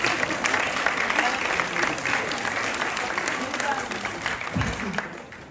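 A seated audience at a talk on writing a book despite dyslexia bursts into dense, continuous applause that stays steady and full for about five seconds before beginning to fade.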